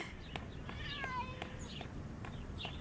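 A cat gives a few faint, short meows, including one rising and falling call, against quiet indoor background noise.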